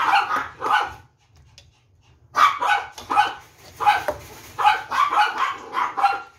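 Small puppies bark and yip in quick bursts at feeding time, close by, with a short lull before a lively run of overlapping barks.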